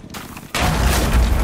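Explosion in the video game Rainbow Six Siege: a half-second quiet lead-in, then a sudden loud blast that spreads into a sustained, roaring rumble lasting about a second.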